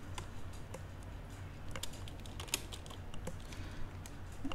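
Typing on a computer keyboard during a networking configuration session, a quiet close-up run of irregular key clicks and taps over faint background hum.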